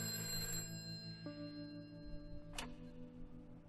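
A telephone rings in the video game A Way Out, a faint, thin tone over a steady hum of game ambience, with a brief bright chime near the end and no talk.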